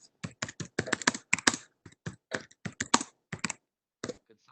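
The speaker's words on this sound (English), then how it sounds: "Somebody's typing." Keys clatter on a computer keyboard in quick, uneven bursts of crisp clicks with short pauses between, close and clear, heard during an online meeting.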